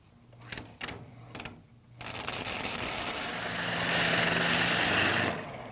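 Sandpaper rubs on an epoxy-coated cork ring handle, a few short scratching strokes followed by a long, steady, loud rasping pass that fades at the end.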